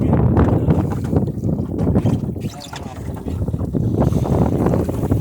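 A sailboat moves through a breeze on Broad Sound, with steady gusting wind buffeting and water rushing past the hull at close range.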